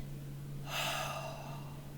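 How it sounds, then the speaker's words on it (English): A single deep breath taken close to the microphone during a guided relaxation, a breathy rush of air that swells and fades over about a second, over a steady low electrical hum. "Let's get a deep breath going."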